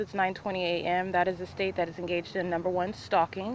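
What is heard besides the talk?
None of the usual background noises is heard.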